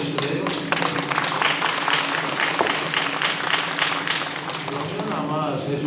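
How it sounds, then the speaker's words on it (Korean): A hall full of residents at a town meeting with the mayor claps together in a dense, sustained burst of applause lasting several seconds, with a few voices faintly audible beneath the clapping. "박수 쳐주실래요?"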